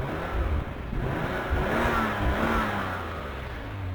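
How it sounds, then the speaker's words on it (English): A car's engine revs steadily during an auction inspection, a mid-pitched rising and sustained roar close by, with no talking over it. "give the car a bit of a rev and look for smoke"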